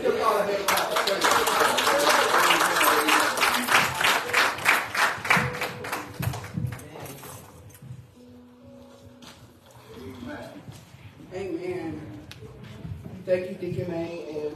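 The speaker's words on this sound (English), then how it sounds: "Let's give God a hand clap of praise" A church congregation claps in praise at a cancer awareness service, loud rhythmic clapping that fades after several seconds into quieter voices and shuffling.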